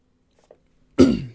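A single sharp, close cough bursts out after near silence, preceded by a faint small sound.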